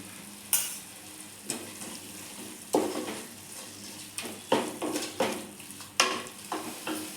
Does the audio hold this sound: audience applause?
no